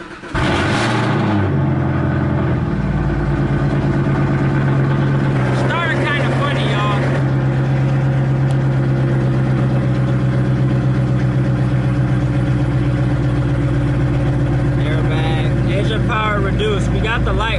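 A Chevrolet Camaro ZL1 engine cranks over and catches, then settles into a loud, steady, deep idle that runs on without a break, with a brief rev partway through.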